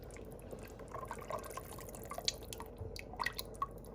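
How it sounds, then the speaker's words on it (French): Tomato purée is added to a pot of Moroccan harira soup, giving faint, scattered wet drips and soft liquid plops over a low background hum. "nous allons rajouter la purée de tomates"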